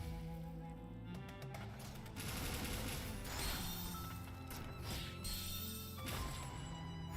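Wall breaking in the video game Ender Magnolia, heard as a dense run of crashing, crumbling impacts that build over several seconds with no talk, ending in a sharp final burst.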